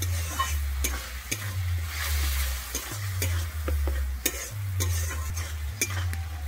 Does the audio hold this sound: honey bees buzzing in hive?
no